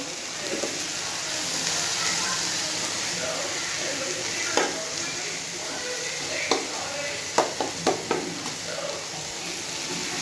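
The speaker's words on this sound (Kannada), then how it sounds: "ಹಂಗೆ 5 ನಿಮಿಷ ಫ್ರೈ ಮಾಡಿ ಆಮೇಲೆ ಸ್ವಲ್ಪ ಅರಿಶಿನ ಪುಡಿ ಹಾಕ್ತಾಯಿದ್ದೀನಿ." Soybean gravy masala fries and gets stirred in a pan after a pinch of turmeric goes in, a steady close sizzle with scattered sharp spoon scrapes and taps toward the end.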